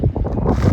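Steady wind gusts buffet the microphone outdoors on an ocean shore, a continuous low rushing roar with no talk.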